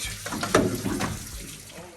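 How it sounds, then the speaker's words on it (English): Water gushes and splashes as it drains from the engine block of a 1967 C30 truck, a close, fluctuating pour that peaks early and then trails off. "oh, water's coming out"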